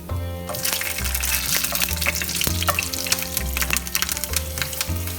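Dry red chili, black mustard seeds, nigella seeds and slit green chilies sizzle and crackle in hot oil as a tempering for dry radish sabzi, a busy continuous fry with sharp pops and a low hum beneath.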